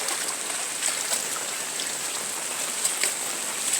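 Steady rain falls on flooded paddy fields, a dense even hiss with scattered nearby drops and no voices.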